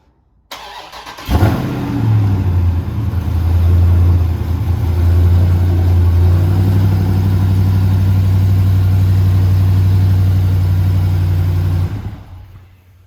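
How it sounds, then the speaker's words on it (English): A 2019 Dodge Charger Scatpack with a 392 engine cranks and fires with a loud bark, then settles into a deep, rumbling idle that steadies and runs on before cutting off near the end. "I tried to do a cold start, but it wouldn't let me."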